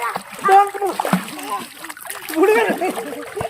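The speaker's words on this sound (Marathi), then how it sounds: "मी पोहतो ना, तुला घेऊन पोहतो" Water splashes as a father swims with a small child riding on his back at a farm, the bursts of splashing mixed under loud adult talk and a voice.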